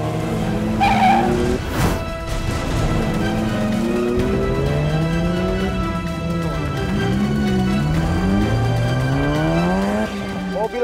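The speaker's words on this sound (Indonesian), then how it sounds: "Mobil perampok itu tiba-tiba putar balik" A fleeing getaway car swings into a sudden U-turn, tires squealing and skidding in long wavering whines over a loud engine, with a sharp impact-like burst early on and voices talking underneath.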